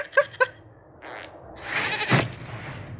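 A goat bleats in Dragon Age Inquisition at the Skyhold keep: a few short nasal bleats at the start, then a longer, louder strained bleat with rough noise, close and alone.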